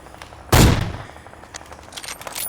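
A single loud gunshot fired at a moving target in PUBG on Xbox One, one sharp crack that decays quickly into faint background game sounds with a few soft clicks.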